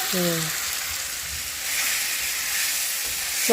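Eggs frying in a pan with a steady soft sizzle, a voice briefly speaking over it at the start and end.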